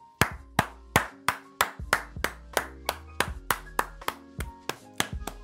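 A series of sharp hand claps ring out alone at a steady, slightly uneven rhythm, roughly three per second, with no voices.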